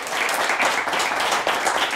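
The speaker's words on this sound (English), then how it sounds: "Nice round of applause for the Linden Eagles." Audience applause for a high school quiz team at a quiz competition broadcast, a dense steady wash of clapping filling the whole stretch at moderate loudness with no pauses.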